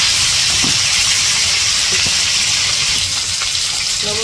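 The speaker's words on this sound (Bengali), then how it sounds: "পটল কেটে নিয়ে গিয়ে পটল ভাজি করার জন্য দিয়ে দিচ্ছি চুলায়" Sliced pointed gourd (potol) frying in oil on a village stove, a steady close sizzle and hiss running without pause, with a few faint clinks over the crackle.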